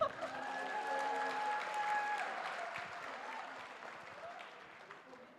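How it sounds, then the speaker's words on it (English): Audience at the Miss Chinatown Houston Scholarship Pageant 2024 gives a sustained round of applause with some cheering, a dense crowd of clapping hands that gradually fades, with a voice faintly audible underneath. "How about another round of applause?"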